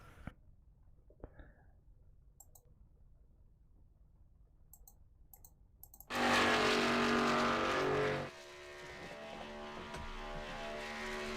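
K&N Series race cars passing on track at night, a loud engine roar surging in for about two seconds, then a steadier engine drone continuing after a quiet stretch with faint clicks.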